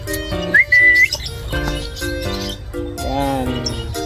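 Birds being called back after release chirp and tweet in quick bursts, mixed with a human whistle and close, busy background noise.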